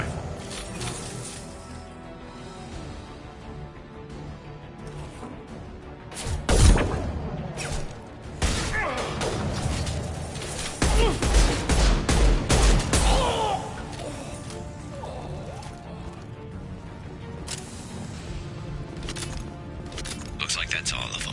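Rifle gunfire in the sci-fi shooter Mass Effect 2, with sharp cracks and booms bursting through a dense game soundscape of music and effects, loudest in clusters midway, while voices speak over the action.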